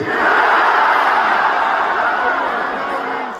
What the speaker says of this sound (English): You hear the reaction it gets there from the crowd in attendance at the T-Mobile Arena